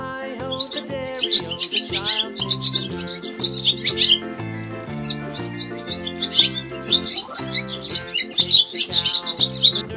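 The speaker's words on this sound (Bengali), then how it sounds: "ঘুঘু পাখি ডাকছে গাছে।" Steady birdsong of a dove calling in a tree, repeated chirps and calls over a rhythmic musical accompaniment, bright and continuous throughout.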